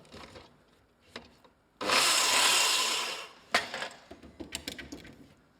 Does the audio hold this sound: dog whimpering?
no